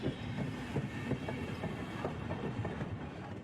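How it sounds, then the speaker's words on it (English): Steady rolling rumble and rhythmic clickety-clack of a train ride from the video game Higurashi When They Cry Hou, continuous and moderately loud throughout with no talking. "It seemed the train had reached its final stop."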